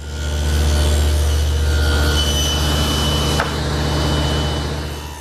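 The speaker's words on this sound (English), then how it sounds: "I'm just using the saw blade. I'll make one pass on one face, turn it around, make another pass" A table saw blade cuts a groove along wood stock in a workshop, giving a loud, continuous whirring grind with a steady low hum throughout.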